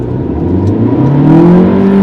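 Skoda Slavia 1.5 TSI accelerating through a 0 to 100 test, a steady engine drone rising in pitch under load, heard from inside the car.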